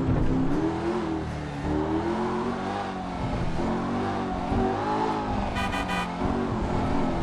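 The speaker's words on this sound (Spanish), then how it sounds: "Suena lindo el motor deportivo." An ETR1 sports car engine revs in GTA Online with a loud, steady tonal drone that rises and falls across several seconds, and a brief honk-like burst comes near the end.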